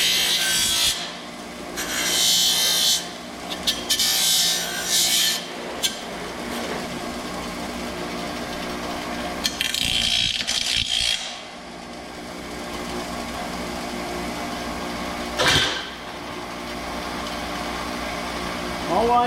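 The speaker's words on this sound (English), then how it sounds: "All I'm doing here is taking the burrs off, and if there's a little sharp edge or something, I touch it on the grinding wheel" Metal grill parts are pressed against a grinding wheel to take off burrs and sharp edges, giving several harsh bursts of scraping between quieter stretches of wheel hum.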